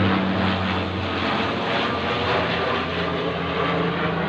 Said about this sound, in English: Very small aircraft over my head there